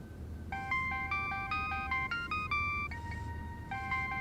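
A melodic electronic phone ringtone plays in repeating bursts of stepped tones, fairly clear over a low background rumble, with a short gap before the tune restarts.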